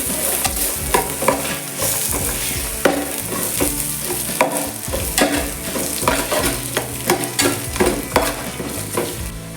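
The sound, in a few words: onions frying in a pan for mushroom biryani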